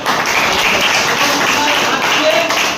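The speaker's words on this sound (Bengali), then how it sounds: "তো ওনার জন্য জোরে হাততালি হোক।" An audience claps loudly at a district marketing management gathering in Baliadanga, Malda, a dense, continuous burst of applause filling the space, with voices mixed in.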